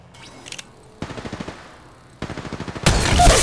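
Bursts of automatic gunfire from Apex Legends Mobile crackle in three separate rapid volleys, each a fast string of sharp shots, the last one louder and denser with explosive impacts mixed in.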